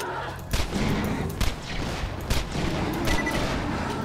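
Explosive weapon fire in the video game Borderlands 2 rattles over a dense, continuous roar of in-game combat, with several punchy blasts at irregular intervals.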